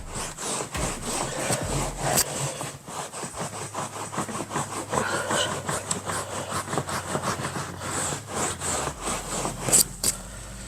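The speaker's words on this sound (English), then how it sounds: "before I go through and rag it out again" A rag scrubs grime out of a carpet stain in fast, steady back-and-forth strokes, a close, continuous rasping rub with no talking.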